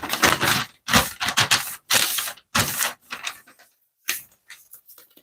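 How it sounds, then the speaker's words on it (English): Paper being handled and rustled close to the mic in an ASMR session, with bursts of crisp crinkling and sliding separated by short pauses, loud and near, no talking. "Paper sounds, paper sounds, paper sounds."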